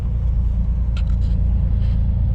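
A Chevrolet Corvair engine idles smoothly up close, a steady low rumble with an even, unbroken drone throughout.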